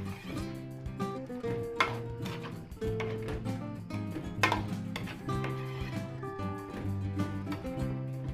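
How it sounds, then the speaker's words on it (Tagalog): A spoon stirs Filipino party food with liver spread in a metal pot, repeated clinks and scraping taps in an irregular rhythm, close but fairly soft, with no talk. "Haluin lang po natin."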